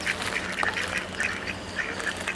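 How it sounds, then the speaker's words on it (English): Ducks quack in short repeated bursts at an RV park campground, the calls fairly faint and distant over a low background hum, with no talking. "See the ducks walking back and forth through there?"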